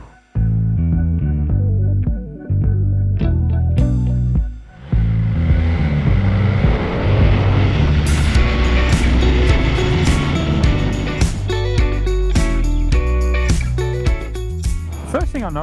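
A 2025 BMW S1000R motorcycle pulls away and rides on, its engine loud and close with rising and falling revs and shifting harmonics, heavy wind rush building partway through.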